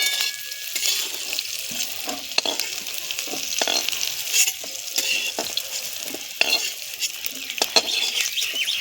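Fig and taro stolon pieces sizzle and crackle steadily in a hot pan, with occasional spatula scrapes and pops, close and fairly loud, no talking.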